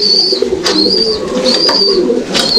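Pigeons coo repeatedly in soft, low rolling calls, several overlapping at close range, with a faint high-pitched chirping in the background.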